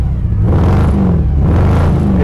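A 1975 Corvette Stingray convertible engine revving nearby, a deep steady roar with rising and falling pitch, no talking.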